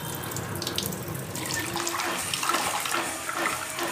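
Food rinsed clean in water for a curry: running water from a tap splashes and gurgles steadily into a vessel, close and continuous with no talk.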